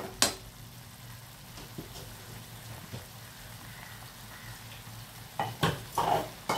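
Paneer tikka masala sautéing in oil in a pan, giving a soft steady sizzle with a few louder stirring scrapes near the start and end.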